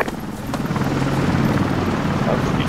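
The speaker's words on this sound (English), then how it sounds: "No, it's three helicopters." Helicopters in the video game Arma on the Lingor map: a steady, fairly loud rotor drone with a rhythmic low thump that holds throughout the short stretch.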